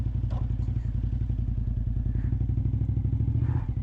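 A Suzuki TL1000R motorcycle engine, warm and firing up readily, idles with a deep, steady, rhythmic throb that pulses evenly and loudly throughout, with a few faint clanks over the top.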